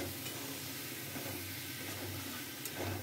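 Peas simmering in a pan with chopped coriander and tomato, a steady close sizzle and bubbling hiss with light stirring scrapes throughout.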